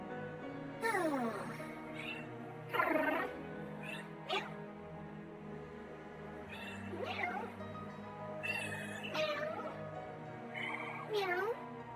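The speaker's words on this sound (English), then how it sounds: "Meow." A cat meows repeatedly in a series of drawn-out, rising and falling cries spaced across the stretch, close by and fairly loud, with no talk over it.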